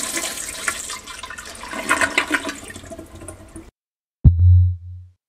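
An old, aged toilet in the Stonewall Penitentiary video game flushes once. A loud, short gurgling rush of water follows a stretch of dim background noise and a moment of silence.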